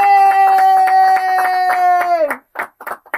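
At a French talk event about overcoming disability, a loud sustained electronic tone slides down and stops, then audience applause follows in short, separate bursts of clapping.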